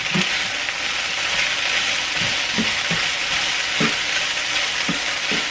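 Summer squash fries in cornmeal in a hot pan. A loud, steady sizzle fills the whole stretch, with soft scraping and stirring knocks now and then and no voices.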